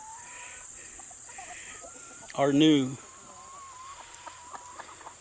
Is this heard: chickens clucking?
yes